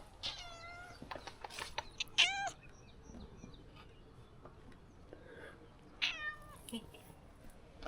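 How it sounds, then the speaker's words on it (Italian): A kitten meows several times outdoors during a countryside hike near small villages, with short high cries coming in bursts at close range over a quiet background. "C'è un gattino?"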